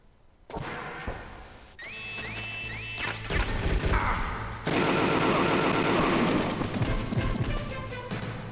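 SOCOM pistol fire rings out during a Metal Gear Solid guard fight, with sharp repeated shots and impacts over game music and effects, loud and busy throughout.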